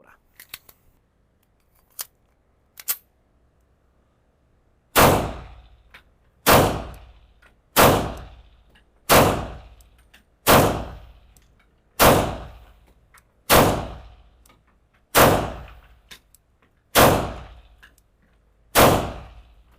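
An Arsenal Strike One handgun, an Italian-Russian pistol, fires ten sharp, loud shots at an even pace of roughly one every 1.5 seconds, each with a short ringing decay. A few faint handling clicks come before the first shot.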